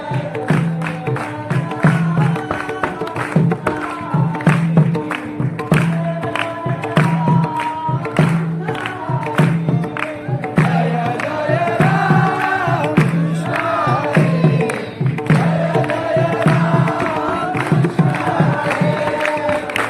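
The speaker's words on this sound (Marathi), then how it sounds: "वर्ध्याने बी नामजप असला भारी घेतला का नाही, ऐका तुम्ही पण एकदा." A crowd at a temple chants God's name together in devotional namjap, a loud continuous rhythmic group chant with steady repeating pulses and instruments throughout.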